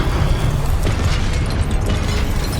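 A Confringo blasting spell detonates in Hogwarts Legacy, a sustained loud roaring burst of explosive noise with crackling debris, dense and unbroken throughout with no pauses.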